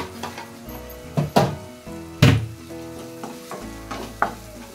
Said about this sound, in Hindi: तो बेसन को हम अच्छे से भूनते हैं